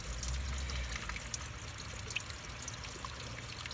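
Water pours and trickles steadily from a 1997 Honda Civic cooling system during a coolant flush, a constant close-up splashing stream with faint ticks, no talking.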